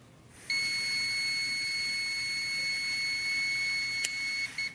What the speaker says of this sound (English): Wait till it beeps.